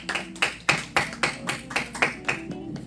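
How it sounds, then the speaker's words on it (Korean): Church congregation applauding together during a Sunday afternoon worship service, a run of roughly rhythmic clap bursts that sound close and moderately loud, with faint voices underneath. "하나님께 영광의 박수 올려드리겠습니다."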